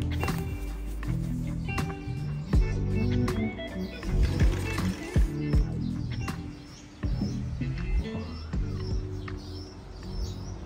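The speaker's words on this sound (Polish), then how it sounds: "Ptaszki słychać" Scattered bird chirps and short calls ring out over a steady outdoor background, with a few cooing notes mixed in.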